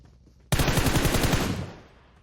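A loud burst of automatic gunfire in PUBG Mobile, a rapid string of close shots lasting about a second and then fading into quiet.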